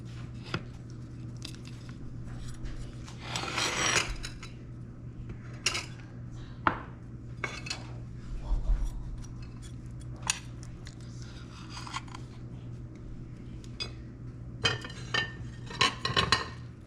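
A metal spoon scrapes and clinks against a pan while scooping out chicken pot pie filling, with scattered uneven scrapes and knocks close up, over a steady low hum, and no talking.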